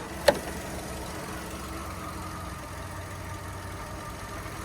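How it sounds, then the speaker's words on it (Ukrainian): A steady, low engine idling without change on a Volkswagen Touran 1.6 MPI, preceded by a single sharp click near the start. "робота двигуна."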